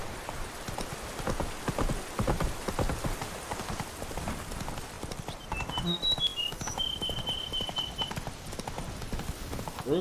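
Horse hooves trotting in The Witcher 3 video game, a steady, dense clip-clop that runs the whole time, close and even, with a few brief tonal game chimes partway through.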